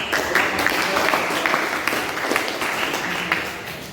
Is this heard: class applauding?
yes